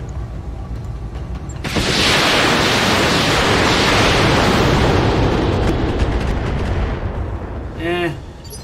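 A mech weapon in the BattleTech game Roguetech fires with a sudden loud blast that swells into a sustained roaring rumble for several seconds, then fades, followed by a brief warbling tone near the end.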